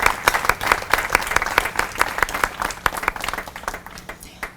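Audience applause at an outdoor ribbon cutting ceremony for a restoration at a sculpture gardens, a dense crowd clapping steadily with sharp individual claps standing out, gradually thinning toward the end.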